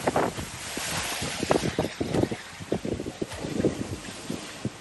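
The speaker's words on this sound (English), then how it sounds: "With waves like this coming up behind the boat, she can pick up speed and surf over 10 to 12 knots." Big following seas of three to five meters roll around a sailboat on an Atlantic crossing, with steady wind roar, rushing water and repeated wave surges and splashes close to the microphone, no voices.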